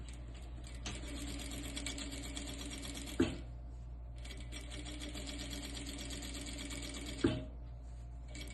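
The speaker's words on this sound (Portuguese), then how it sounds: "Deixa eu passar mais uma costurinha aqui." A sewing machine stitches a cloth diaper in two steady runs of rapid mechanical whirring, each ending with a sharp clack as it stops, heard close and alone with no talking.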